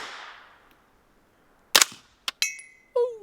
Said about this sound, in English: We're just gonna shoot into the dirt here and hear what we hear.